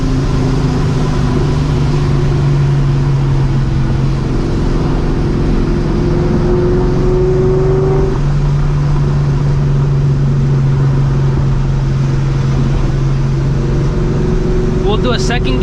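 Supercharged New Edge Mustang GT with long tube headers pulling hard on a road, a loud continuous engine drone with a steady droning pitch that climbs midway, close and dominant throughout.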